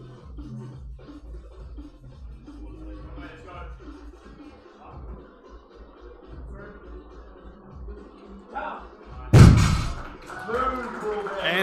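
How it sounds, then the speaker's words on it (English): A loaded deadlift barbell dropped to the platform at a national powerlifting championship lands with one loud, heavy thud near the end, after crowd noise and an announcer's voice. "He drops it to the ground with a thud."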